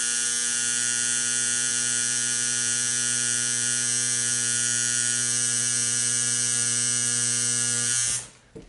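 A tattoo machine runs with a steady, unbroken electric buzz during rose tattoo practice with round-liner needles, humming evenly for about eight seconds before cutting off abruptly.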